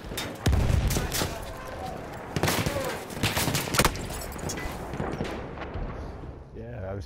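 Gunfire in the video game Battlefield 1, with bursts of rifle shots and thudding impacts cracking close and at a distance over several seconds, mixed with battle noise and voices.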